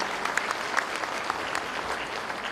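A large audience claps steadily for a co-chair at the opening ceremony of the 2020 Pyeongchang Peace Forum, with a few sharper claps standing out from the even wash of applause.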